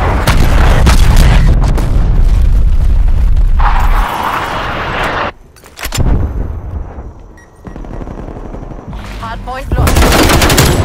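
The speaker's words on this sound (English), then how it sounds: "Hostile artillery targeting active." Artillery strike in Call of Duty: Black Ops Cold War, loud booming explosions and rapid heavy gunfire in dense bursts, broken by short quieter gaps before the blasts resume, with a faint voice underneath.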